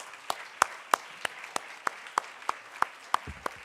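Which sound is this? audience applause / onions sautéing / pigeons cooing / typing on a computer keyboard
audience applause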